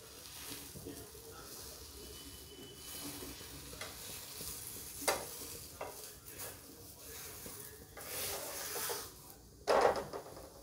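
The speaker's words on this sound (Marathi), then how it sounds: "आता आपला तवा गरम झाला आहे. आता ह्याला छानपैकी शेकून घेऊया." Layered laccha paratha roasts in ghee on a hot tava with a steady low sizzle, broken by occasional scrapes and knocks of a spatula turning it.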